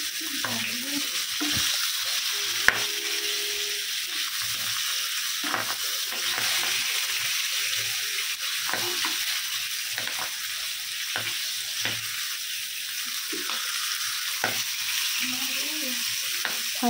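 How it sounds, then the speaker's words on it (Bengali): Boal fish frying in a pan of hot oil while being turned over, giving a steady close sizzle throughout with occasional clinks of a spatula against the pan. "এপিট ওপিট করে আমি ভালো করে মাছটা ভেজে নেব।"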